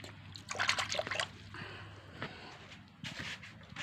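Water trickles and splashes inside a freshly built room of white brick, an uneven, moderately loud flow with a few stronger bursts.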